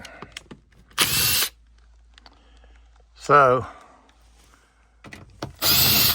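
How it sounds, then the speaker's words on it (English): Short bursts of a power drill spin up close by, three separate runs with quiet gaps, and a voice speaks briefly between them, during repair of a Trane variable-speed blower motor assembly. "See, I brought this drill, I might as well use it."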